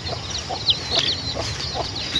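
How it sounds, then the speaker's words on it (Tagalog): Pet hens with chicks near a farm hut after rain, giving soft, scattered clucks and a few sharp chirps over steady outdoor background noise, with no talking. "So natanaw ko na yung ating mga alagang manok."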